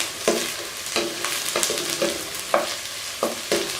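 Chicken pieces frying in a pan until light brown, a steady sizzle broken by repeated spoon scrapes and stirring knocks, close and fairly loud.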